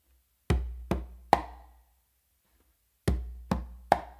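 Two congas played by hand in the opening of a Songo pattern: a bass tone, a finger stroke and a close slap, heard as two groups of three sharp, close hits separated by a pause, with no talk.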